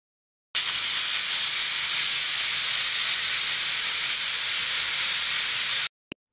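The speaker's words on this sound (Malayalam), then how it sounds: "ഇനി ഇതിൻ്റെ ആവി കംപ്ലീറ്റ് നമുക്ക് കളയാം." Steam hisses steadily out of a pressure cooker after its whistle as the pressure is released, a loud continuous rush lasting several seconds before stopping abruptly, followed by a brief click.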